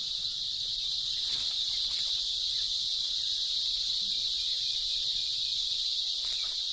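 Cicadas sing in a dense, monotonous chorus, a steady high buzz holding constant and loud throughout, with no voices.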